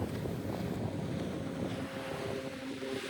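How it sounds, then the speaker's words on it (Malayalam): A motor boat passes at sea, its steady engine drone and hull rumble mixed with wind buffeting and wave wash, continuous and fairly close throughout. "നേരെ വന്നുകൊണ്ടിരുന്ന ബോട്ടാണ് സൈഡ് തിരിഞ്ഞ് പോകുന്നത് കണ്ടോ"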